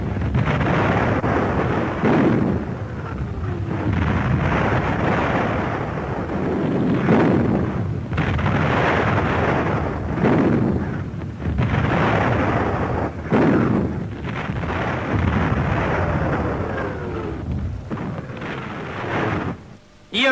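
German artillery fire in 1940 wartime newsreel footage, heard as repeated heavy booming blasts with rumbling roar between them, loud and continuous over about twenty seconds with no talk.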